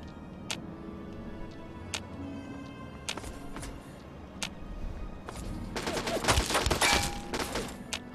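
SMG fire in Fallout 3: single sharp shots spaced a few seconds apart, then a dense burst of rapid automatic fire over a low background drone, with no speech.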